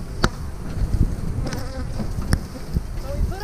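Bees buzz densely and close by around a hive, a constant droning hum with individual insects whirring past.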